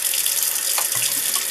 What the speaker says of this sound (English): let's turn some water on here